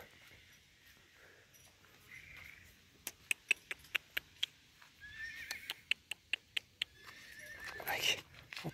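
A three-year-old stallion, 1.70 m tall, with bare unshod hooves, gives a neigh near the end after a run of evenly spaced hoof clip-clops on hard ground, fairly close.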